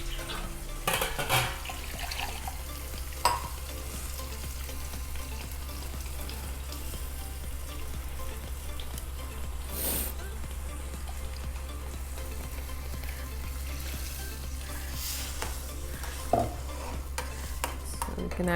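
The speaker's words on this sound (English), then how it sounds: "Just add some water, the required amount of water." Water is added to a simmering fish curry with tomato puree and stirred, giving a steady sizzle and bubbling with occasional scraping stirs and splashes throughout, close and moderately loud.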